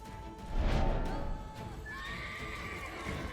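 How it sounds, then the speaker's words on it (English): A horse in The Witcher 3 whinnies loudly and shrilly, then breaks into clip-clopping hooves and scuffling, close and alone without talk. "Oh wow, that horse just kicked me."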